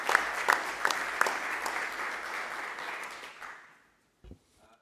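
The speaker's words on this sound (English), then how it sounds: "Please join me in a round of applause for Jerry" Audience applause at a community college board meeting honoring a retiree, steady clapping for about three seconds with a few sharper claps, then tapering off into near silence with one brief bump at the end.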